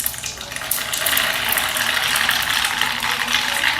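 Mustard seeds dropped into hot oil for tempering khatta dhokla give off a loud, continuous crackling sizzle that holds steady and close throughout.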